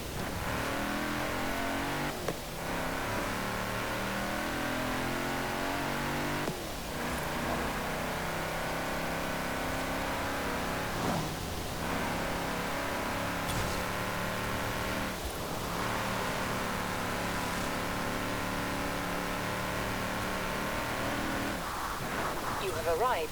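A 1987 Mercedes-Benz AMG Hammer Coupé in Forza Horizon 4 revs hard through repeated rising sweeps, with a sharp gear change every few seconds, loud and continuous under occasional talking.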